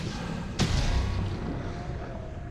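A warper enemy shoots at the player in a live-streamed alien-themed video game, giving one sharp, loud shot followed by a booming rumble that decays over a steady background.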